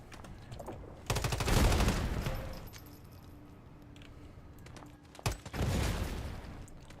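Gunfire in the Once Human game, blowing up objects: a loud burst of rapid automatic shots, then a quieter stretch, a single sharp crack and a second loud volley.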